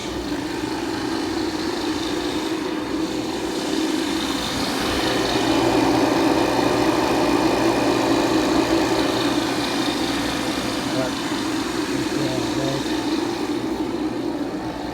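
A vacuum pump runs steadily during replacement of a rusted Mitsubishi inverter air-conditioning compressor, giving a continuous loud mechanical drone with a faint pulsing chug. It holds an even level throughout and no one talks.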